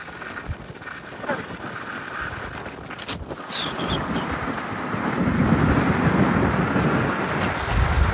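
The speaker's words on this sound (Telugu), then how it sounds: "ఇంకా అల్లలు చూడండి పెద్దగా వస్తున్నాయి" Big waves rolling in on a Bay of Bengal beach, a broad rushing surge that swells louder toward the end, heavily buffeted by wind on the microphone, with no talk.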